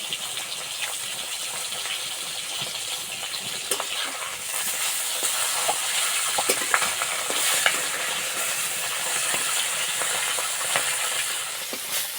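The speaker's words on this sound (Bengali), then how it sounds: "মাছের বাঁতা ভেজে নেব" Fish head frying in hot mustard oil makes a steady, dense sizzle with occasional sharp pops and a stronger surge partway through, close up and without talking.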